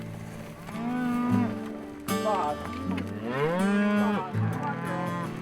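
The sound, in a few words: cattle bellowing on a Kansas farm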